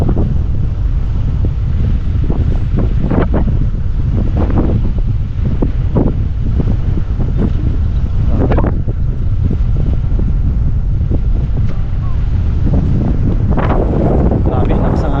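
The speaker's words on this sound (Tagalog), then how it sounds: "Grabe, lakas ang hangin dito." Strong wind roars outdoors at a park, a heavy unbroken rumble battering the microphone with repeated louder gusts, loud and close for the whole stretch.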